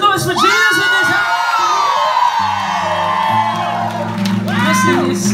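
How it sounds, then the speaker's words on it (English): Concert crowd at a live gospel show in Chattanooga cheering, whooping and shouting loudly and continuously, with sustained instrumental chords rising underneath partway through. "Chat, make some noise for Jesus in this"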